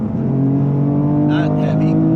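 A 2019 BMW M2 with 405 horsepower, on a race track lap as the driver rolls onto the gas, gives a loud, steady engine drone heard from inside the car. A few brief higher-pitched bursts come near the end.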